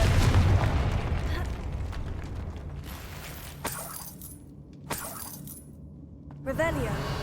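The Confringo blasting spell in Hogwarts Legacy bursts in a loud crash with debris and crumbling, followed by a few sharp cracks and smaller impacts as the rumble fades.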